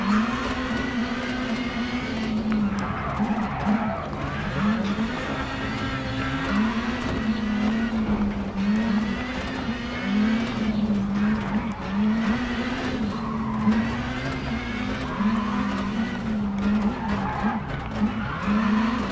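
A Toyota Yaris rally car in WRC 10 drives continuously with a steady engine drone, rising and falling as it shifts through gears and corners, loud and close throughout.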